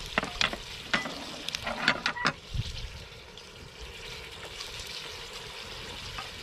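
Onions and garlic hit hot oil in a Dutch oven at a campfire cook, giving a few sharp clatters and stirring scrapes up front, then settling into a soft, steady sizzle.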